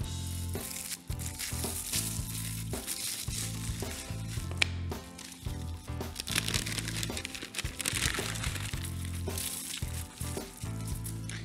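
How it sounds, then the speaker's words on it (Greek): Couverture chocolate is broken into small pieces by hand in a kitchen, giving steady crackling and crinkling under continuous background music with no talk. "σπάμε την κουβερτούρα μας σε μικρά κομματάκια εδώ"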